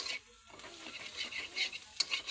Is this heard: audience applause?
no